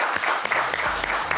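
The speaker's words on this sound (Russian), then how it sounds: "Давайте, под аплодисменты." A studio audience at a Russian talk show claps in dense, steady applause that fills the whole short stretch at close range, with no voices rising above it.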